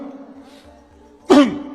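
One sharp throat clear rings out near the end, after a stretch of quiet low murmuring.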